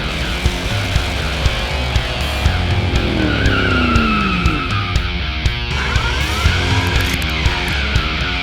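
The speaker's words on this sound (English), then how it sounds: "if it's a car with high horsepower, you know, we like to spin the tires for you" A high-horsepower muscle car spins its tires, a loud, continuous engine roar with rising and falling tire squeal and skidding through the middle, close and sustained with no talking.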